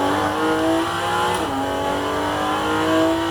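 A race car on a circuit brakes hard, the engine note dropping sharply, then pulls away again with a steady, loud rising drone heard close up and alone.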